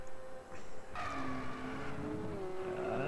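A race car slides off the track into the grass, a sustained engine drone and tyre-scrub hiss rising after the first second and holding steady, heard alone at a moderate distance.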